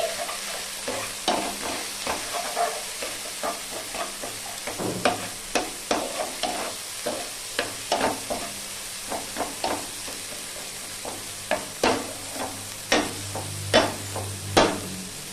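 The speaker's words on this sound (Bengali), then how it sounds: "এরপর আমি মাছের ঝাল করার জন্য মশলা দিলাম। ভালো করে আমি মশলা কষিয়ে নিচ্ছি।" Spice paste for a fish curry sizzles in a pan after the fish pieces have been fried, with a soft continuous hiss broken by repeated rhythmic scrapes and knocks of a spoon stirring it.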